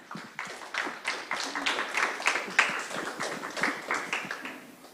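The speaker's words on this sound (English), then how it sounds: "So let's give them a round of applause." A crowd claps at a junior high cross country awards ceremony, honoring varsity-level runners; a dense, steady patter of many hands fills the room for several seconds with a slight rise in the middle before easing.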